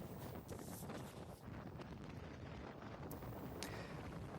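Strong wind gusting at about 110 km/h across open ground in Montana, USA, roaring steadily and buffeting the microphone throughout with no voices.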